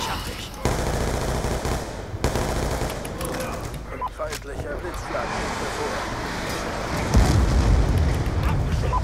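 Call of Duty Black Ops 2 multiplayer gunfire is heard as sustained automatic bursts and explosions that are loud and continuous, with someone speaking German over the action.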